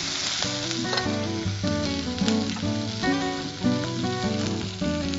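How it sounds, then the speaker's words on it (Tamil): Raw banana and mixed vegetables sauté in a pan for Chettinad vegetable mandi, giving a steady close sizzle and fry with occasional stirring throughout. "அப்புறம் வாழைக்காய், எல்லா காயும் ஒன்னொன்னா போட்டு அப்படி வதக்கிடுறேன்."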